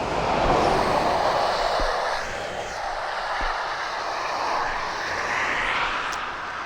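An aircraft passes at East Midlands Airport, its broad engine roar steady and fairly loud throughout, swelling and easing slightly as it moves, with no talk over it.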